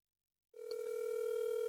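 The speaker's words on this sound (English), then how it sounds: "But I am calling from Lauren's phone" A telephone call rings out on the line: after a brief silence a steady ringback tone starts and holds continuously, clear and moderately loud with nothing else over it.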